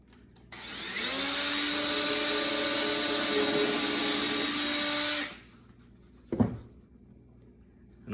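A power drill bores pilot holes through a wood workpiece backed by a support piece, with a steady high motor whine that runs for about four and a half seconds, then stops, followed by a faint click.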